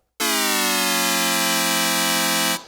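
A Nord Lead A1 synthesizer holds one bright, buzzy sustained note with pitch modulation, starting abruptly and cutting off after about two and a half seconds, loud and alone.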